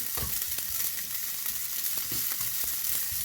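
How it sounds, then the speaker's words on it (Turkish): Thin, fresh noodles fry in hot oil until golden, giving a steady, dense sizzle close by, broken by the sharp scrapes and taps of stirring. No one speaks. "Eriştelerimiz çok ince çok taze olduğu için sadece 2-3 dakika şöyle altın rengini alasıya kadar pişirmemiz, kızartmamız yetecektir"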